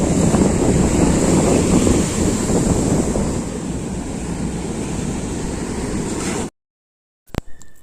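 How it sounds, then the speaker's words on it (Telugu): Ocean waves at Varkala beach, running high at full moon, roll in as a loud, continuous surf roar with wind, then cut off abruptly near the end. "సో అలలు అయితే కొంచెం ఎక్కువగానే ఉన్నాయి"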